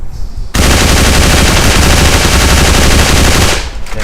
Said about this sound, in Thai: ทีนี้ก็จะเป็นการลองยิงปืนดูนะครับ